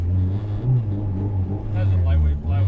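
Four-cylinder all-motor engine of a 1998 Acura Integra GSR with a lightweight flywheel, droning loud and close with steady rumbling harmonics that swell and dip as it revs, over a clear voice talking.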